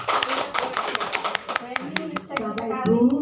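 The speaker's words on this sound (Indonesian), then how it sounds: "Bapak Ibu, tepuk tangan untuk Bu Eni." An audience at a dissemination session clapping for a colleague named Bu Eni: a burst of scattered applause mixed with voices, then a louder swell toward the end.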